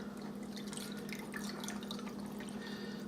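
Ice cold water is poured through a strainer into a bowl, a close, continuous trickle with small splashes and drips that holds steady throughout, no voices.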